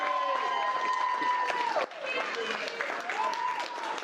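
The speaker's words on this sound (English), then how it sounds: "Ladies and gents, our groom Phil, round of applause." Wedding guests applaud the groom, Phil, after the speeches, a steady dense wash of clapping with cheering voices and chatter mixed in throughout.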